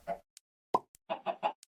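Soft plopping and clucking sounds from chickens laying eggs in the game Divine Journey 2, a few short bursts with a quick run of three near the end, quiet and without talk.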